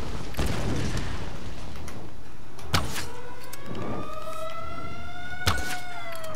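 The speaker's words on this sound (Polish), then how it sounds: "Nie kręć mi tu syreną." A hand-cranked siren in the Tomb Raider video game winds up in long, rising wails that fade and repeat, mixed with short sharp impacts and a low background rumble.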